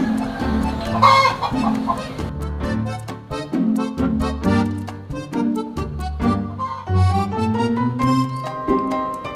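Nearby, a rooster keeps up loud, rhythmic clucking, rising into a crow partway through; no talking is heard.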